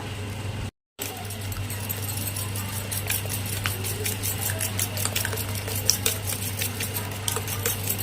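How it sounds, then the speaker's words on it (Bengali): Two eggs are beaten in a bowl for an omelette, giving rapid, steady ticking of a utensil against the bowl over a constant low hum, with a brief dropout near the start. "এখন গুলিয়ে নেব ডিমটা"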